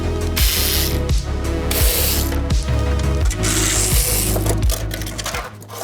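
A ratchet is loosening the skid plate bolts on a Kawasaki KLE 500 motorcycle. Loud, rapid clicking of the pawl runs in repeated close strokes, each cut off by a brief pause, and nobody speaks.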